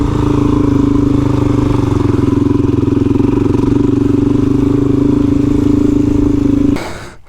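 A motorcycle in first gear on desert sand in the Simpson Desert, its engine droning loud and close with a strained, labouring tone that holds steady, then cuts off abruptly near the end.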